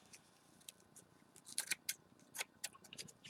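Scissors snip foliage material on a model stream bank, a series of faint, quick, crisp cuts clustered in short bursts against a quiet background.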